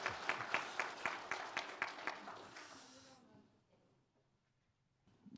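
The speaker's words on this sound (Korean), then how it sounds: "박수 한번 할까요?" Church congregation at a Sunday worship service giving a short round of applause, a quick series of distinct claps that swells briefly and then fades out into near silence.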